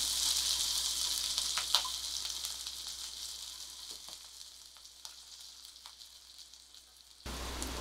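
Onion sautés in a pan for red pumpkin soup, giving a soft, steady sizzle with a few faint clicks of stirring. It stops abruptly near the end.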